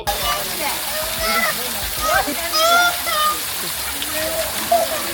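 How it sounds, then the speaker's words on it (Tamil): Water pours steadily from a waterfall at Kalvarayan, with a constant rushing wash. Children's high voices call and shout over the water, and splashes can be heard. "பெரியார் ஃபால்ஸ்லேருந்து தண்ணி வந்துட்டு இருந்தது தண்ணி அதிகம் வரல கொஞ்சம் கம்மியாக தான் வந்தது"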